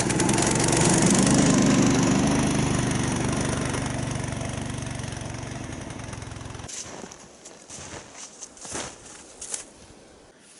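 Small vehicle engine revved hard with the throttle lever held fully down, a loud steady mechanical roar for several seconds that then cuts to a lower, uneven idle with rattles, outdoors.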